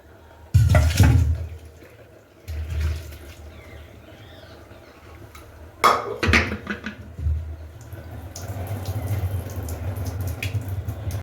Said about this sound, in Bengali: আমি এই ফুটো গামলির মধ্যে দিয়ে জলটা ভালো করে ঝরিয়ে নেব